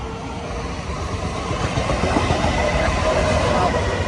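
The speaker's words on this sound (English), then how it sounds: "here comes the express train" An express train passes Mineola station, its rumbling, rattling wheel and car noise building steadily louder as it draws close and carries on without pause, with no voices heard.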